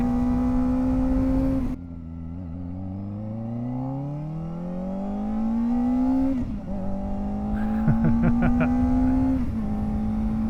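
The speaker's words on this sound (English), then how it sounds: "even riding this thing slow is just so enjoyable with the Graves exhaust" A Kawasaki ZX-4RR sport motorcycle with a Graves aftermarket exhaust rumbles steadily with a deep, throaty note, its pitch rising and falling as the rider shifts and accelerates, close and loud.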